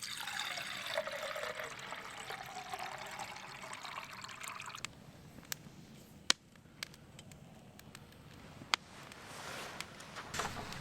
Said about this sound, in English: So right now I'm just boiling some water